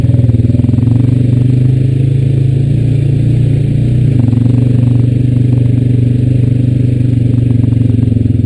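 A Honda Rancher 420AT ATV on Swamp Lites tires churns through mud, its engine droning loud and close with a brief shift in pitch midway, and clattering over the steady roar.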